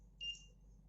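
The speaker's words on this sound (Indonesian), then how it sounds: "dan LED buzzer pun bunyi" A short electronic beep from the buzzer on an ESP8266 temperature alarm, triggered when the temperature tops 30 degrees; a single faint tone over steady low background hum.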